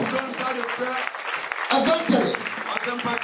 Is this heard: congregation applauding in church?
yes